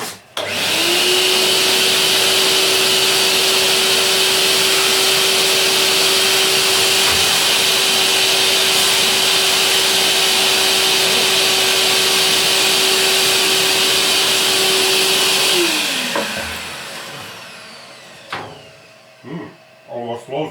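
A vacuum cleaner roars steadily and loudly at close range with a constant whine for about fifteen seconds, then winds down and cuts off, followed by a few light knocks.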